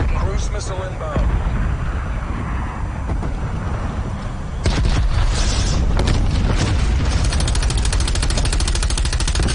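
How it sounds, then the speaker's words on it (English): Heavy booming blast from a cruise missile strike in the Call of Duty: Black Ops Cold War video game, loud and rumbling, with further explosive roar and game noise behind talking. "Cruise missile inbound."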